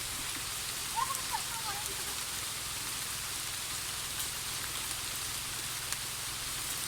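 Steady rain falls at an outdoor catfish farm, a constant broadband hiss with no breaks, while a faint voice sounds briefly near the start.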